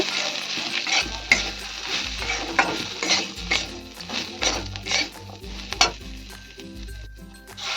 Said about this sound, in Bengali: সব কিছু আমি ভালো করে আবার নাড়িয়ে নেব।